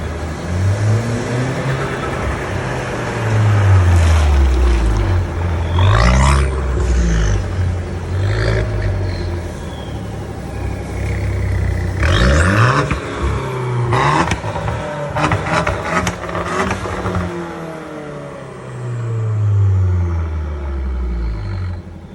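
An Alfa Romeo Giulietta 1.4 with a left and right Akrapovic Varex active exhaust, revved repeatedly up and down, loud and close, with deep rumbling idle between rising roars.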